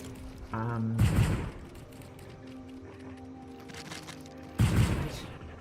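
Gunfire in the LEGO Fortnite Odyssey video game comes as two loud, sharp bursts a few seconds apart, each quickly fading, with quieter tonal game sounds in the stretch between them.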